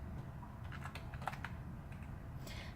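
Faint keyboard typing, a handful of soft, scattered key clicks at an uneven pace, close but quiet beneath a steady background hiss.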